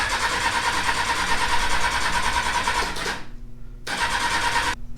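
Kawasaki ZX-6R motorcycle engine, revived after sitting about 17 years with a new fuel filter and gas lines, cranks steadily and loudly without catching, a continuous starter whir that stops abruptly, resumes briefly, then cuts off again.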